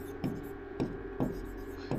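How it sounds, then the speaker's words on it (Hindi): A pen writes numbers on paper in short, close scratchy strokes that repeat at irregular intervals, with faint low murmuring underneath. "यहाँ पे लिखेंगे"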